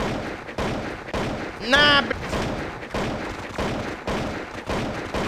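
Tank cannon fire in an online video game, a string of repeated booming shots with steady battle noise between them, while someone talks loudly and excitedly over it.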